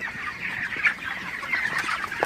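Broiler chickens on a farm cluck and chatter continuously in a dense flock, close and moderately loud, with a few sharper calls standing out over the steady murmur.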